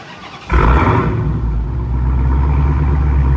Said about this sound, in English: We're gonna get a little, you know what I'm saying, remote start.